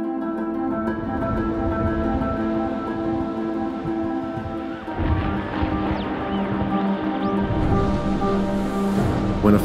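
Ocean waves in the Man of Medan horror game, a steady broad wash of surf that swells louder in the second half, layered with a low sustained tonal drone.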